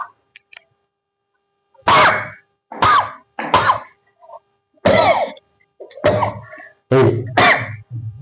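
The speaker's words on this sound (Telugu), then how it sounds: "ఇలా స్లోగా ఆ గొంతు టచ్ అయినప్పుడు కాఫ్ వస్తుంది" A person cleaning the nose with a nasal cleaning thread coughs as it touches the throat: about seven short, harsh, close coughing and throat-clearing bursts, separated by brief silences.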